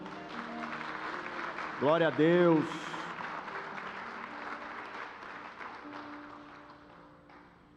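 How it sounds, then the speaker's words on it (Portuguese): A church congregation applauds, sustained clapping running throughout under a rising sung or shouted exclamation from a voice near the start, fading gradually toward the end. "aplaude o Senhor"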